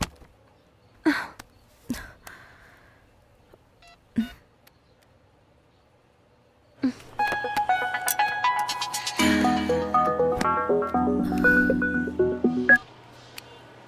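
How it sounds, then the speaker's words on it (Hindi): A phone call is placed: a few sharp taps, then a steady electronic tone joined by a string of dialing beeps and tones for several seconds, with no talk over it. "माँ को फोन करती हूँ।"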